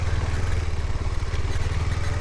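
A motorcycle ridden along a hill road, its engine a steady low throbbing drone with a rattling clatter and some wind noise, continuous and fairly close, with no one speaking.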